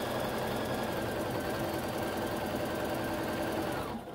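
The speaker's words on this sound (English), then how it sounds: "that is basically just a straight stitch along these curved edges to keep them from stretching as I sew" A sewing machine runs continuously at steady speed, straight stitching along the curved edges of an apron, with a close, even mechanical whir that stops right at the end.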